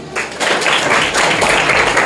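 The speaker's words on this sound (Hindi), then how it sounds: "तालियां बजाओ।" A group of schoolchildren at Future Leaders School in Bilsi claps together, a dense burst of applause that starts abruptly and carries on steadily at close range.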